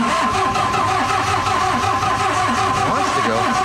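An old air compressor's engine cranks and catches, running as a steady mid-pitched motor drone with slight revving throughout, close and loud.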